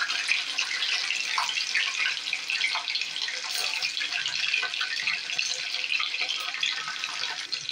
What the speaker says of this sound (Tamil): அதை வந்து கொஞ்சம் லைட்டாக ஃப்ரை பண்ணி எடுத்துடலாம்.